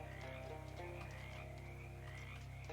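Frogs croak in a swampy frog bog in the video game Shadows Over Loathing, a dense overlapping chorus of close, buzzy calls with a low steady hum beneath.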